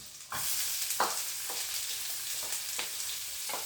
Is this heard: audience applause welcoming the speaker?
no